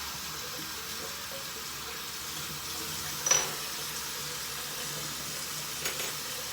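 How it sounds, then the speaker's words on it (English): Running tap water rinses a Gillette razor and its blade, a steady close hiss with two brief clinks partway through. "Start by rinsing off the blade and the razor"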